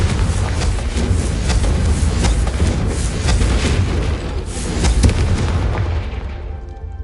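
A Confringo blast erupts in a Harry Potter video game, a loud, sustained booming roar with crackling bursts that holds for several seconds before dying away.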